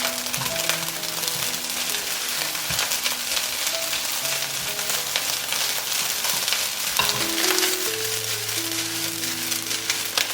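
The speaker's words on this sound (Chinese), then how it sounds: "把米饭呢完全炒到松散，炒热了之后把其他食材加进来。 翻拌均匀，然后加一点点盐调味，" Rice with seafood and other ingredients is stir-fried in a wok, a loud continuous sizzle with scraping and tossing of the spatula throughout, no voices.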